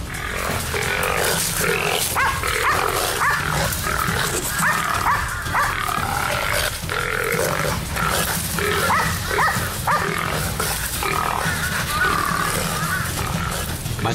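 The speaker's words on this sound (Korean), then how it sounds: "이때 들려오는 멧돼지 소리. 10마리가 넘는 멧돼지 무리다." Wild boars, a herd of more than ten, fighting Jeju dogs on Hallasan, with squealing and grunting boars and barking dogs in a dense, loud, continuous clamor close by.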